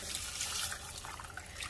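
Water poured from a can into a pot of Mexican-style vermicelli soup, a steady, even splashing pour that runs close and moderately loud without a break.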